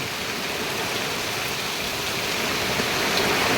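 Heavy monsoon rain pours down on a village in the Konkan countryside, a dense, steady hiss of falling water that grows slightly louder toward the end, with no voices.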